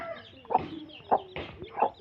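A small chick recovering after being given medicine lets out three short, close clucks spaced evenly about half a second apart, with soft chirps between them.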